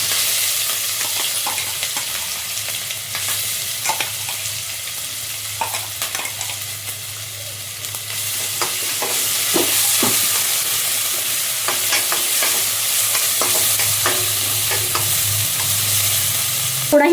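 Ground ginger, garlic and green chili paste frying in a pan for Mumbai vada pav, a continuous close sizzle broken by frequent spoon scrapes and stirring clicks, with no talking.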